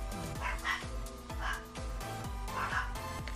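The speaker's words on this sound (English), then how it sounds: "my dogs are going crazy right now" Several dogs bark and yip repeatedly in quick bursts indoors, moderately loud, with whimpering mixed between the barks.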